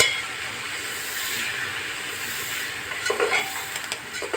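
Whole cluster beans (guvar) with garlic-chili and country spices being stirred in a pan, a steady close scraping and soft sizzle throughout with a few louder clatters near the end, no voices.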